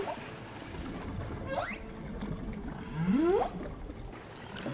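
A humpback whale calls underwater in the Pacific, giving a short rising squeal followed by a longer sweeping upward moan over faint background hiss.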